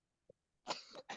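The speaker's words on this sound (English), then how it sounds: "I was coughing" A single person coughs a couple of times, close and fairly loud, with a short burst followed by a second quick cough and no talking around it.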